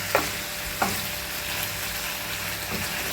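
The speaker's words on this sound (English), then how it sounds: "Okay, now let's fry this." Diced turkey stir-frying in a pan over medium heat, a steady close sizzle broken by a couple of sharp clicks of a utensil against the pan.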